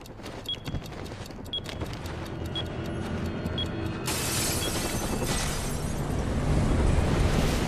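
Fireworks going off early, ahead of New Year's, in an animated Joker Christmas scene. Scattered pops and crackles build into a louder, continuous roaring barrage of bursts.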